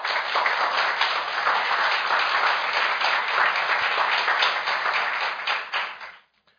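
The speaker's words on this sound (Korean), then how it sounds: "우선 오늘 강연해 주시는 간 나오토 일본 전 총리를 큰 박수로 환영해 주시기 바랍니다." An audience at a National Assembly lecture applauds to welcome former Japanese prime minister Naoto Kan, a full, steady round of clapping that holds for several seconds and then quickly fades out.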